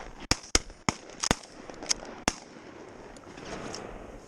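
Several sharp shotgun blasts crack out during a duck hunt, about six distinct reports spaced irregularly over two seconds, followed by quieter outdoor background noise.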